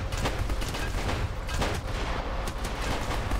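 An AK rifle fires continuously in a first-person shooter, with dense, loud bursts of gunfire running throughout without pause.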